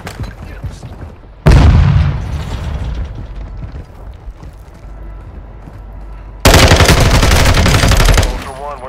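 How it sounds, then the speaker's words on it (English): Video game gunfire comes in two loud, close bursts of rapid automatic shots with booming impacts, separated by quieter background game noise and faint distant shooting. "You are taking effective fire."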